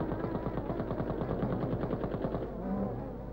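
Rifles and light automatic weapons fire at diving and strafing aircraft in a 1940s training scene, a rapid continuous rattle of bursts at moderate distance, slightly muffled, easing off near the end.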